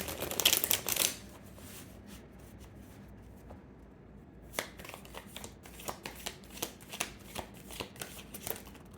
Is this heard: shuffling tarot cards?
yes